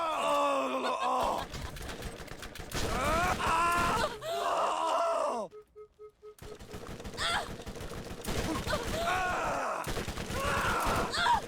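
Gunfire from the video game Borderlands, bursts of rapid shots and groaning, shouting voices in a chaotic firefight, loud and near, broken by a brief quiet lull with a steady tone midway.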